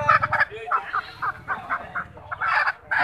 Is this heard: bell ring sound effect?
no